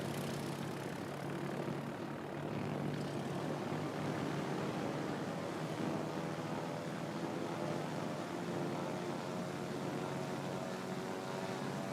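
Carrier aircraft launch in a naval combat video game with a continuous, loud propeller-engine drone and airy rush that stays steady throughout, with no voices over it.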